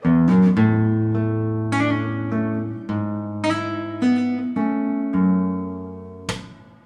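Acoustic guitar plays a song intro, a steady run of plucked bass notes and ringing chords, each note sustaining into the next, played alone and close.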